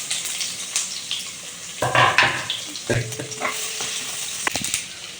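Onions fry in hot oil for a beef curry, sizzling steadily while a utensil stirs them with several scraping, clattering strokes against the pan, close and moderately loud with no talk.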